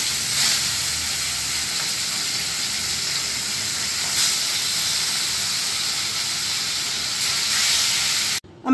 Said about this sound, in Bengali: আমি এবার একে একে ইলিশ মাছের টুকরোগুলো তেলে দিয়ে মাছগুলো প্রথমে ভেজে নেব।